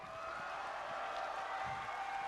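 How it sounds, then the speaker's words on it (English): Audience applause for the kids category at a BronyCon 2015 cosplay contest, a steady wash of clapping from a crowd heard at moderate distance, holding evenly for a couple of seconds. "Let's get one big round of applause for all the kids backstage."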